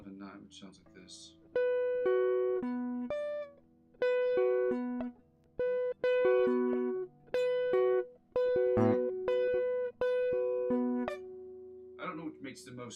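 Electric guitar plays a tapped passage of clean, bright, distinct notes in short phrases separated by brief pauses, close and fairly quiet, with soft talk before and after.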